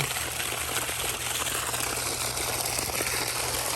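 Water draining from a hose while a koi pond is emptied, a steady, continuous rushing wash with a low hum beneath it, even and unbroken throughout.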